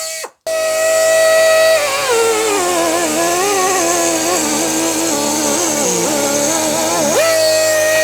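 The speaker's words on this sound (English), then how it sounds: "I will use this Japanese tool that is pneumatic." A Japanese pneumatic tool runs steadily while removing the cross slide blade from a Bernardo Profi LZ lathe, a loud continuous whirring drone with wavering pitch that starts abruptly after a brief burst and holds for several seconds.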